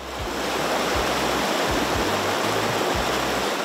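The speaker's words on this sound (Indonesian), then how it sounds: "Suara gemericik airan sungai" A river runs near a house in Bok Lua district, Nan Province, Thailand. Steady babbling water fills the whole stretch, close and continuous, with no voices.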